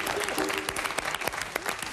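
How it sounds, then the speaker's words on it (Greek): Studio audience in the MasterChef Greece 2024 cooking competition applauds steadily for about two seconds, a dense patter of many hands with voices mixed in. "Πάμε ένα χειροκρότημα για τον Μάριο που αγχώθηκε."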